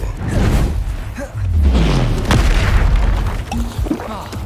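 Bombarda blasting spell going off in Hogwarts Legacy, deep booming explosions with whooshing bursts, several loud hits in quick succession amid game sounds.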